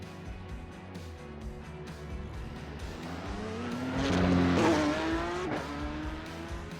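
A race car pulls out of the pits in the iRacing sim, its engine droning steadily, then climbing loudly in pitch as it accelerates around the middle before easing back, close and without talk.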